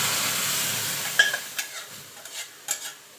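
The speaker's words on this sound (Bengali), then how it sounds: "এবার ডালটা ঢেলে দেবো।" Lentil dal with chopped ginger goes into a hot pan, giving a soft hiss and sizzle with a few scrapes and light clinks of utensil on metal, close and fairly quiet, fading after the first moment.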